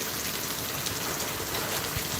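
Heavy monsoon rain pours down in Mumbai, a dense, steady hiss of drops on surfaces, close and unbroken.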